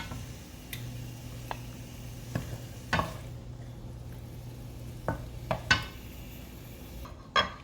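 Mushrooms and onions scooped out of a cooking pot: scattered utensil scrapes and metal clinks against the pot over a steady low sizzle, close and moderately loud.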